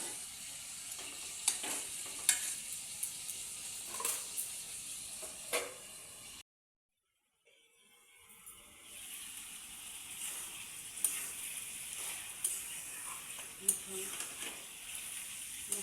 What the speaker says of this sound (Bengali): মশলার সাথে ভালো করে কষানো হয়ে গেছে